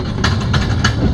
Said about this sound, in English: That's our 2nd cable train. As it's coming down, it is also helping pull us up.